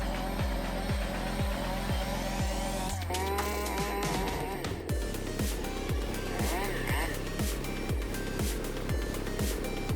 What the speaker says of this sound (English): Running a chainsaw on his shoulder was a bad call.